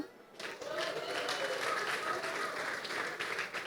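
An audience applauds for a young woman named Kadudu at a comedy stage show, a dense, steady wash of clapping that swells after a brief quiet start and holds loud and continuous throughout.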